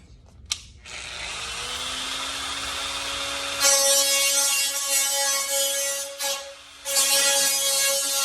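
An abrasive grinding disc on a power tool cleans up a metal edge: a high, whining motor spins up, then a loud, harsh grinding rasp comes in bursts with brief pauses between passes, close and without talk.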